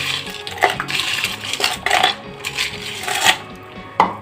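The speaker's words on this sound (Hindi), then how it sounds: "और साथ ही हम बर्फ़ डाल देंगे हस्बे ज़रूरत" Ice cubes dropped into cold coffee, several separate clinks and clatters spaced irregularly over a few seconds, close and fairly crisp.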